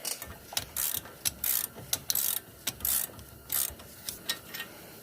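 A ratchet wrench clicks in short bursts while loosening the caliper bracket bolt that holds the bracket to the steering knuckle on a 2007 Pontiac G6. The rapid pawl clicks are close and loud, with pauses between strokes.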